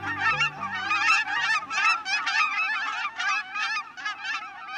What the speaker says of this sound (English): Cackling geese may look a lot like Canada geese, but their slighter build and shorter beaks give them away as a distinct species.